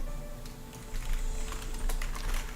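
Rapid clicky keystrokes on a computer keyboard, irregular bursts of taps at close range over a faint steady hum, no talking.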